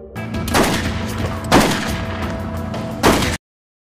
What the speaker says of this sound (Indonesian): Alonso mengejar sambil terus menembak, namun sangat disayangkan kehilangan jejak.